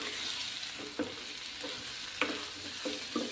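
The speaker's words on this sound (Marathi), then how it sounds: "हे सगळे मसाले आपल्याला व्यवस्थित तेलामध्ये परतून घ्यायचे आहेत." Spices and chilli powder sauté in oil for sambar, a loud continuous sizzle close by, broken by several sharp scraping stirs against the pan.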